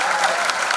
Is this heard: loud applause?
yes